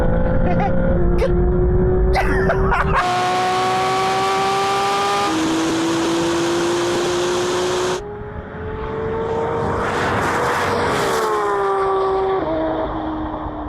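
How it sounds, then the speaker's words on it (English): A Porsche GT3 RS and a turbocharged Maserati MC20 accelerate hard in a race. Loud engine notes climb through the gears, with rising whines that drop at each shift, close and sustained over about fourteen seconds. "I think I had you to 60 and then those turbos kicked in and just went past"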